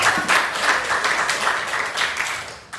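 A class applauds at the end of a school lesson. Brisk, continuous clapping from a group of students fills the whole short stretch and fades slightly toward the end.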